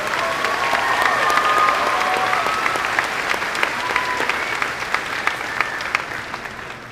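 Sustained applause from a large crowd at a graduation commencement ceremony fills the space, steady and loud, with a few cheers and whoops rising over the clapping before it tapers slightly.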